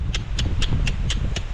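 A horse's hooves clip-clop in a quick, even rhythm, six sharp clear strikes over a low rumble, fairly close with no talking.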